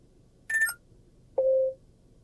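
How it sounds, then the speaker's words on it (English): Ringtone preview from the infotainment screen of a 2024-2025 Lincoln Nautilus: two clean electronic tones, a short higher beep followed by a longer lower one, clear and isolated against near silence. "Ringtones, when you've got an incoming phone call, what do you want it to sound like?"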